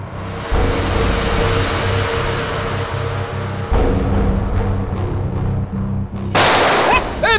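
Gunfire in a TV crime drama action scene, a dense, loud run of rapid shots and bursts sustained across the clip, with a brief shift in texture partway through and a sharp crackling burst near the end.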